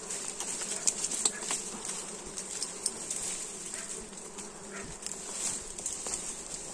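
Bees buzz steadily around a broken bee nest outdoors, a dense high droning swarm with scattered closer passes and faint taps, no talking.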